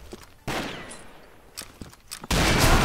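Several sharp video game gunshot bursts crack out in sequence, shots striking metal, with a loud sustained burst of fire at the end; no voices.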